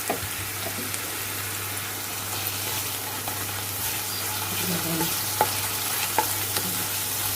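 Turmeric and coriander powder fry in oil while being stirred for a fermented-fish gathi dish, a steady soft sizzle with occasional scraping stirs of the spoon, close and alone without talk.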